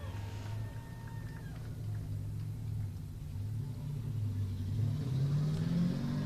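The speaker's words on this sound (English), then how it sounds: "moving on to the next round is Greg Bolt in the black RX-7" Black Mazda RX-7 race car at a drag racing shootout, a low engine rumble that swells and revs up toward the end, heard from a moderate distance with faint background commentary.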